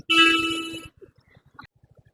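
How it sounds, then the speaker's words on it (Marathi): A car horn blares once for nearly a second, loud and close, followed by faint rhythmic clicking and quieter sounds. "तिला समजलं हॉर्नचं बटन काय ते आणि तिला कंटिन्यू हॉर्न वाजवते"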